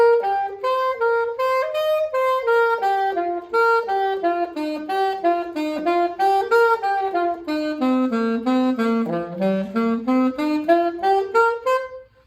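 A solo saxophone plays pentatonic blues phrasing with variations, running a continuous melodic line that climbs and falls in connected turns, loud and close, without accompaniment or talk.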